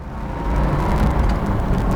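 A 1971 Ford Torino Cobra's engine roars as it accelerates on a winding road, a loud, steady, rising rumble heard from inside the car.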